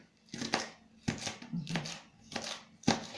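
A knife chops vegetables, including peppers, on a cutting board for an eggplant salad, giving about five distinct, unevenly spaced cuts. The crisp strikes are close and moderately quiet, with brief silence between them and no talking.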